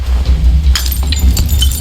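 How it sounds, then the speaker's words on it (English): A glass bottle breaks in the video game We Happy Few with a couple of crisp, clinking shatters over a loud, low ambient hum. "we're just throwing glass bottles at your head now"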